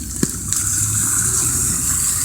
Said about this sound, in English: I wonder how big this splash is gonna be.